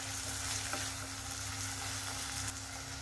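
Chopped tomatoes with a little salt fry in a pan for a green gram gravy, a steady close sizzle with occasional stirring scrapes and clicks, no voices.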